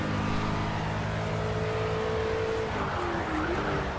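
An Aston Martin racing car engine in the game Project CARS drones at high revs, pitch holding steady then dipping and climbing again as it shifts, loud and continuous with no voices.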